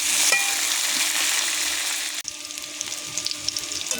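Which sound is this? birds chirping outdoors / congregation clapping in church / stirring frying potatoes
stirring frying potatoes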